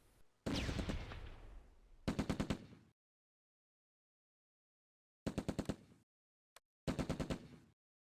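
Machine gun crossfire in the WWII tactical video game Close Combat A Bridge Too Far: several separate rapid bursts of automatic fire, fairly faint, with long silent gaps between them and a brief lone crack.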